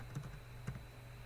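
A few soft keystrokes on a computer keyboard, two quiet clusters of taps about half a second apart against a low room hum, no speech.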